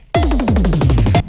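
A loud, rapid series of tom drum hits, each tone sweeping down in pitch, repeating about a dozen times in a quick roll.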